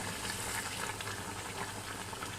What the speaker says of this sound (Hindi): देखें पानी मैंने जैसे ही डाला तो उबाल आ रहा है।